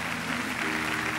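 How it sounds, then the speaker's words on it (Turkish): Brief burst of dense studio audience applause on a Turkish television talk show, steady clapping throughout with a faint tonal hum beneath. "Alkışlar Kötü Yol ekibi için."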